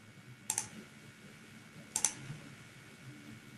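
Two sharp clicks of a computer mouse, about one and a half seconds apart, close and crisp over a quiet room hum.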